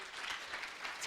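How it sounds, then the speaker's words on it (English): Steady, dense clapping from a crowd, continuous and fairly loud throughout the short moment. "Give them another huge round of applause."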